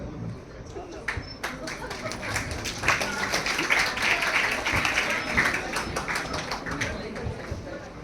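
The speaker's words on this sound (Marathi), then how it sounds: "टाळ्यांचा कडकडाट थांबता कामा नये." Crowd applause at a school award ceremony, sustained steady clapping from many hands with a few sharper claps standing out, heard at a moderate distance with talk mixed in.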